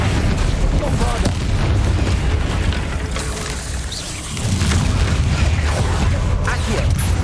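Explosive spell effects in the wizarding game Hogwarts Legacy, dense rumbling booms and crackling debris layered over constant combat noise, loud and continuous with a brief lull midway.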